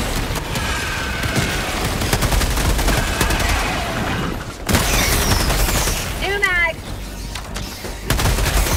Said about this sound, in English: Rolling grenade.